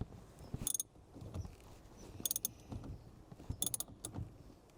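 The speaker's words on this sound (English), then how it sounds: "get the ratchet on it and tighten it up a bit so that it's holding itself in place" A ratchet is worked on the steering shaft bolt of a Ford Mondeo Mk3, giving quick bursts of metallic clicking in three separate spells, with softer clunks and handling noises between them, close up and with no talk.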